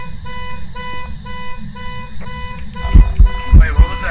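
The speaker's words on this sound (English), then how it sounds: "I heard like a beep." Repeated electronic beeps in the horror video game Phasmophobia, a steady evenly spaced pulse of tones with muffled bumps and noises toward the end.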